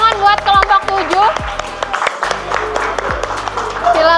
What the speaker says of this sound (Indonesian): Tepuk tangan buat kelompok 7